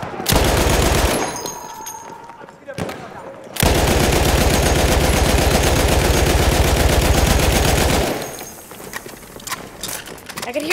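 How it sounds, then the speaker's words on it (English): Sustained automatic gunfire from the player's weapon in Battlefield 1, a loud, rapid, continuous burst of shots lasting several seconds, a shorter burst before it and another clatter at the end. "I could hear my gun just like burning out"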